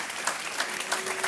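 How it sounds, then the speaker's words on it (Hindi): Studio audience of a televised quiz show applauding two young contestants, a short burst of steady, moderately loud clapping from many hands. "तालियां बजती रहनी चाहिए"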